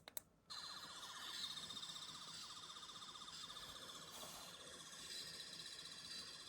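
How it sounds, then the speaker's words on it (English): A metal replica 11th Doctor sonic screwdriver toy emitting a high, warbling pulsing whine after a double button-press click, holding steadily, faint and close. "pressing the button twice will give you this sound effect"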